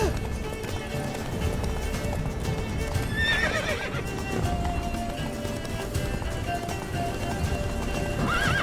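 Rapid clip-clop hooves of a galloping horse in The Witcher 3 run steadily throughout, with a brief whinny partway through and background game sound effects.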